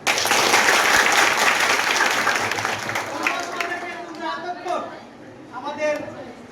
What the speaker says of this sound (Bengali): আমরা দুজনকে কার্পণ্য করবো না তালি দিতে